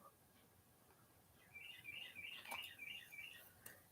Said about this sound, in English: I have the front door open so we can hear the birds. And they're singing up a storm